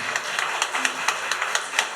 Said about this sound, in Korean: 여러분 인사할 때 뜨겁게 박수로 격려해 주시기 바랍니다